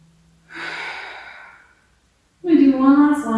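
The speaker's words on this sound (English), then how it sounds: "And then again, inhaling up and back, exhaling forward." Two deep breaths during a mobility exercise for horseback riders: a long airy exhale, a short silence, then a louder voiced breath, close and distinct, with no talking.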